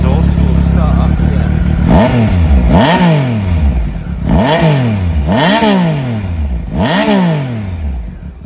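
Triumph Speed Triple 1050 three-cylinder motorcycle engine revving up and dropping back repeatedly, about five sharp throttle blips close by, each a rising whine that falls away, over a steady idle.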